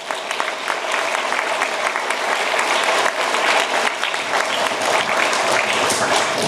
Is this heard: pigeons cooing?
no